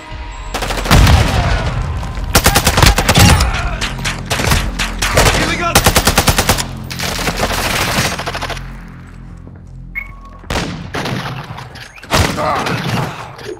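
Cluster strike in Call of Duty DMZ, a rapid series of loud explosions and bursts of gunfire arriving in clustered volleys, booming thuds separated by brief lulls.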